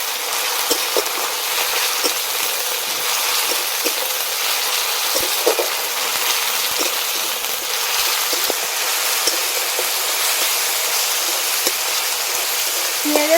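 Ginger-garlic paste and chopped tomato fry with onions in a pan, making a steady loud sizzle with small crackles and pops scattered throughout.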